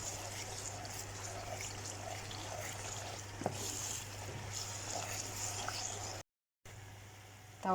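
Liquid strained through a sieve to hold back tomato skins, a continuous soft trickling, running-water sound close by over a low hum, briefly cut to silence near the end.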